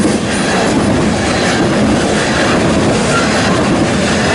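A short freight train with a rear DPU locomotive passing at Fremont and Ashland, Nebraska, close and loud, its steady rumble and rolling wheel noise filling the whole stretch without a break or any talk.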